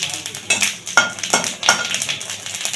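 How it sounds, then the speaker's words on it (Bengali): Whole cardamom pods, two cloves and dried red chillies tempering in hot oil in a wok for a coconut chana dal, with soft crackles and scraping utensil knocks recurring at irregular intervals, close and moderately loud with no talking. "আর এখানে এই 3টে এলাচ ফাটিয়ে নিয়েছি, আর দুটো লবঙ্গ এখানে ফোড়ন দিয়ে দিলাম।"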